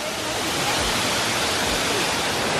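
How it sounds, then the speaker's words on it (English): A small waterfall on Ilha Grande, Brazil pours in a steady, close, broadband rush of falling water, unbroken and fairly loud throughout. "The waterfall."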